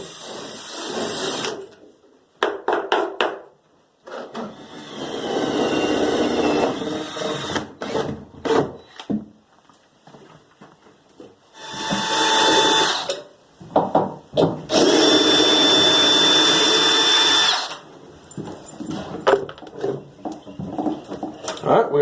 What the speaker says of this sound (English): now I'm going to get my hole saw and go ahead and drill a hole through this part of the floor